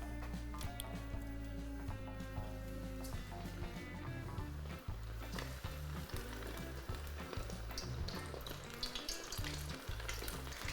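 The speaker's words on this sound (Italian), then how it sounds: "Andiamo a friggere." Steady loud sizzling of small beef pieces frying in hot oil, a dense crackling hiss with bubbling pops throughout, close by and continuous.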